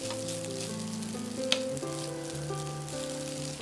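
Egg-coated rice stir-fried on high heat in a pan, a steady close sizzle with scraping stir sounds and one sharp clank, running under a bright tonal music bed.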